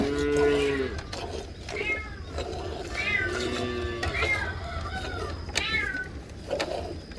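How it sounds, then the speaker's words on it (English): A calf moos repeatedly in the background of a cow-milking session, with several drawn-out calls spaced about a second apart over steady low rumbling noise. "you can hear her calf mooing in the background here"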